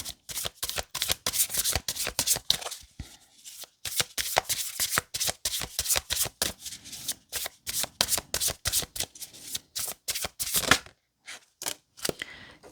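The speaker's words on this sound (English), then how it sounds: "You can just fast forward the shuffling." A deck of tarot cards is riffled and shuffled repeatedly at close range, quick papery bursts in a steady rhythm with a few short pauses, no voices.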